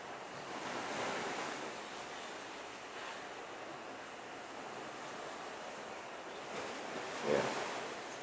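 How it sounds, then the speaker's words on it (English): Surf washing along the west coastline of the Big Island, heard from a high balcony as a steady, soft wash of breaking waves with a brief louder swell near the end, no voices. "There's the beach. Look at the surf."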